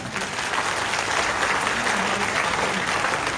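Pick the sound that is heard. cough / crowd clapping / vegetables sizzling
crowd clapping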